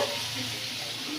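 Chopped onion and tomato fry in hot oil in a wok in a village kitchen, making a soft, steady sizzle that stays faint and even, with no voices.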